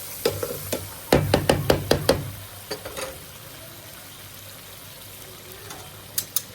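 Peeled tomatoes mixed in a karahi, a quick run of sharp knocks of a spoon against the pan followed by softer wet stirring and a low simmer, then a couple of isolated clacks near the end.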